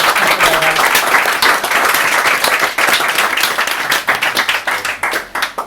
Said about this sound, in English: please give a little moment, a round of applause to Terry Murray